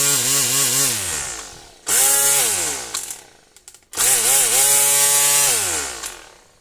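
A Worx cordless hedge trimmer runs in three loud bursts, its motor whining up and settling into a steady buzzing drone, with brief quiet pauses between runs and no talking.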